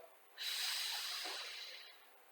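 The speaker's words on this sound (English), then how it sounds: "Inhale again and exhale" A single long, breathy exhale during a Pilates stretch, close and soft, swelling quickly and then fading over about a second and a half.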